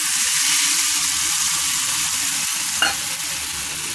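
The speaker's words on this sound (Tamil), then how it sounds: "அந்த புளி ஜலத்தையும் அதில் ஆட் பண்ணிக்கலாம்." Tamarind water is poured into ground paste frying in a pan, giving a steady loud sizzle with faint stirring scrapes and one brief sharper burst near the end, with no one speaking.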